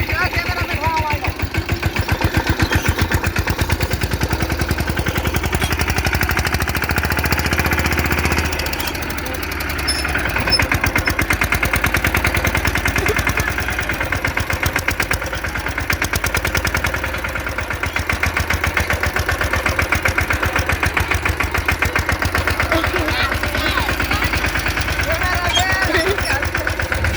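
A farm tractor engine runs steadily in a village setting for the whole stretch, a loud, close, chugging drone with a brief dip midway, and people talk over it.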